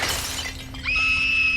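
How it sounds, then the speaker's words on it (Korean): Window glass shatters in a dark, deserted school building at night, a sudden loud crash with a bright ringing tail that lingers after the break. "유리창이 깨졌나?"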